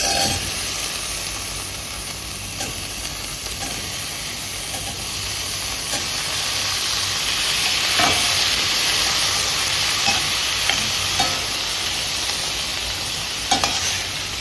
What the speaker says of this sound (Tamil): 3 தக்காளியை போட்டு இன்னும் ஒரு 5 நிமிஷம் நல்லா வதக்கணும்